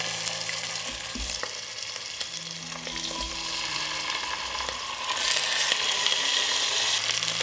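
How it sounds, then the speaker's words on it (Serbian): Chicken drumsticks and thighs frying in hot oil in a pan, a continuous bright sizzle and crackle throughout, growing slightly louder toward the end, close and unaccompanied by speech. "Pripremila sam 2 pileća bataka i karabataka i sada ću ih propržiti na ulju."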